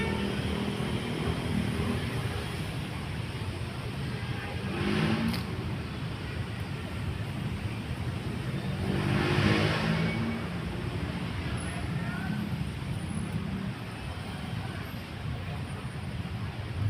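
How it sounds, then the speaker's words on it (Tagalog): A car engine roars loudly and continuously, its revving swelling twice in broad surges over a dense, rumbling background. "parang hindi maganda yung nangyari dun sa sasakyan maharurot"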